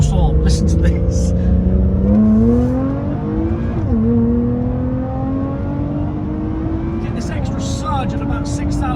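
Lotus Evora 400 IPS exhaust while driving, a loud, steady engine drone rising in pitch through the gears with brief drops at shifts near 2 and 4 seconds, climbing toward high revs; a voice talks over it at the start and end.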